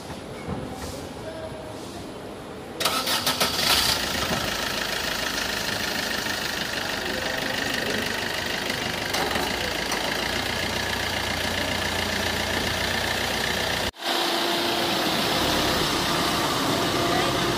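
Car engine started and left idling to warm up, a steady low rumble that steps up in level after a few seconds and continues under people talking, with a short dropout near the end.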